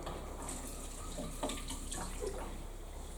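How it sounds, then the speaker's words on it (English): Water runs from a kitchen tap as egg is rinsed off fingers, a soft steady stream with faint splashing under it, quiet and continuous for a few seconds. "My fingers have got a little bit of egg in there, so I'm just going to wash them really quickly."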